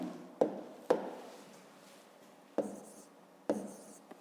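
Pen or marker strokes writing labels on a fifth-grade math exercise, four sharp taps and scratches spaced irregularly with quiet pauses between them, close and alone with no talking.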